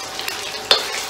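Boiled pork being stir-fried in an old metal Ikea wok, a steady bright sizzle running throughout with a few scraping stir strokes and one sharper clatter near the end, close and fairly loud, with no talking.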